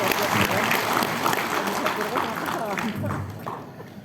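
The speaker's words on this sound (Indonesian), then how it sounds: "Tepuk tangan dulu Pak." An audience of madrasah teachers at a closing session in a Jakarta hotel breaks into brief applause, loud and close, the clapping thinning out toward the end.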